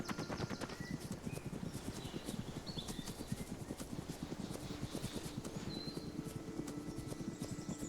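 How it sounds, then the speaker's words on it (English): Rapid, rhythmic hoofbeats of a galloping horse in a video game, steady and fairly quiet, continuing throughout with a faint background hum. "He urges the horse onto a gallop to get away from the insurgent position."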